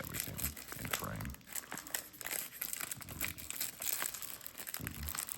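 The cellophane wrapper of a vintage 1970s L&M full flavor 100's cigarette pack is crinkled and torn up close, giving dense bursts of crackling that come and go with brief pauses while a person speaks between them.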